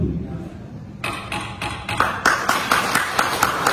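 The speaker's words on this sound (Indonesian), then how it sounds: "Jadi ini mohon izin diputuskan ketok dulu." Gavel knocks at a formal assembly of kings and sultans from across the archipelago, about eight sharp wooden raps in a steady, slightly quickening rhythm, close and loud over a low murmur of the room.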